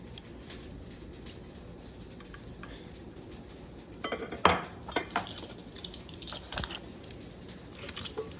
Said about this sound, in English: Just stir them until they all have some coating on it.